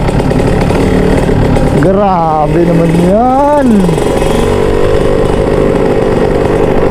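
A motorcycle fitted with a Chon Pipe Thunder racing exhaust revs hard twice, its pitch sweeping up and falling back, then settles into a steady idle while someone talks over it.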